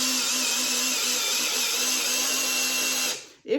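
Power drill driving a screw into a piece of hand-held wood, a steady loud whine with a droning hum lasting about three seconds, then cutting off abruptly with a short clunk at the end.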